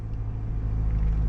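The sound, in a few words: 2021 Jeep Wrangler 4xe Rubicon gas engine running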